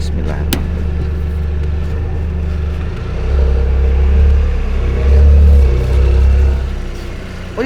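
A Toyota GR Yaris engine rumbles at a deep, loud idle up close, then swells in two revving surges before settling back.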